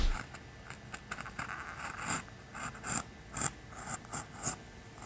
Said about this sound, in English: I'm just using the same utility knife, and just go slow so that you can get a good